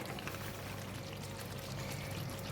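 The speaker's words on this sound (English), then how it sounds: "I'm going to add in half of the coconut milk." Coconut milk poured into a pan of chicken curry, a steady, soft liquid pouring rush that runs unbroken through the whole moment.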